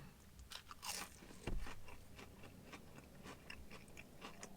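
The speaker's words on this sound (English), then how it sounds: "Beautiful little crunch there." Crunchy bites and chewing of fries from a McDonald's order, a run of quiet, close crackling crunches over several seconds.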